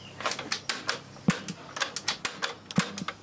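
Solenoid-driven buttons on a Sharp VZ-2000X boombox clicking close up, a string of sharp, dry mechanical clicks in an irregular rhythm with two louder thunks, no voices.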